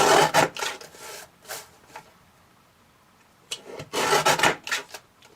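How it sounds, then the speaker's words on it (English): Paper trimmer blade sliding along card edges while crafting a glitter background, giving a few short dry rasping strokes near and clear, with a quiet pause between two bursts of cutting. "I'm just going to trim all the edges off in the trimmer"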